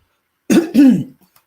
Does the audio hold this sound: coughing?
yes